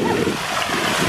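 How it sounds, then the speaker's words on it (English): Strong wind blowing outdoors on a balcony, a steady broadband roar with buffeting gusts, loud and close, with no voices. "We weren't anticipating how windy it was outside."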